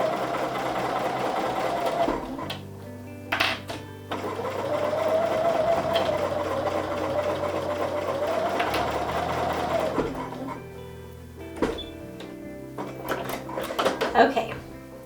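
Sewing machine stitching quilt blocks for a pieced sampler quilt, running in a steady hum for several seconds at a time between pauses, with clicks and handling noises. Someone talks quietly at times.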